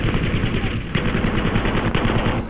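Rapid automatic gunfire in the video game Battlefield V, loud continuous bursts of machine-gun shots with a couple of sharper cracks, a voice faintly talking beneath.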